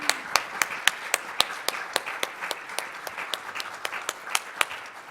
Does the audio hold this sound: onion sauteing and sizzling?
no